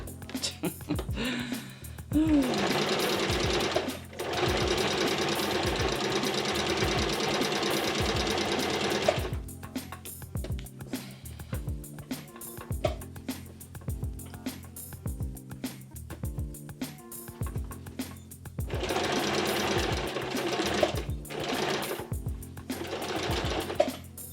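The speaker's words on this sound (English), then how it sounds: "needle in, turn" A sewing machine stitches a simple tote bag, running in a long steady burst at the start, going quieter with handling and intermittent stitching through the middle, then speeding up again near the end.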